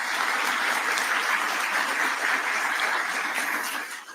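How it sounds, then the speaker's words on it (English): An audience at a public event with Indiana's governor in New Albany applauds sponsors, a broad, continuous wash of many hands clapping at a steady level that fades slightly at the end, with no one speaking. "So if you would give them a round of applause along with our sponsors."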